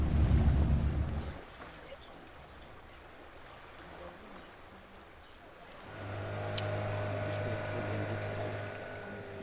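Boat ride on the Nile near Jinja, Uganda, at its source by Lake Victoria: a loud wind buffet at first, then steady water and hull noise, with a motor drone entering midway and holding on to the end.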